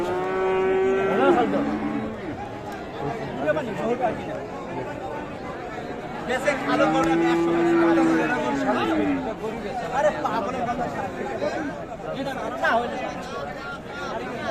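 Cows moo at a busy cattle market at Amabari haat in Dinajpur, where cross and Friesian bulls and calves are sold. Two long, close moos rise over steady crowd chatter, and people talk nearby.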